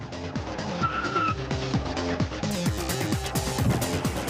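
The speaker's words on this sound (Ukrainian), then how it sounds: "Наша швидкість зараз 50 км за годину. Застосовуємо екстрене гальмування." A car brakes hard from 50 km/h, tires squealing in repeated skidding bursts over a running engine, loud and close, with no talk heard.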